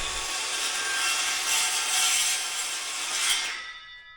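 A reciprocating saw cuts through wood close by, giving a continuous bright, buzzing rasp for several seconds before it stops abruptly, with no voices.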